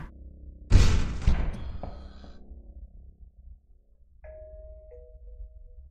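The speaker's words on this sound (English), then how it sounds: "Don't know how you're ringing a doorbell." A doorbell chimes inside a Kowloon-set horror video game, a loud sudden ring that decays over a couple of seconds, followed by a softer sustained tone later on, with no speech over it.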